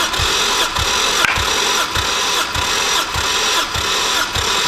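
A Toyota 1JZ engine cranks over on the starter during a compression test, a loud close whirring with a steady pulsing rhythm of about eight beats as each cylinder comes up on compression.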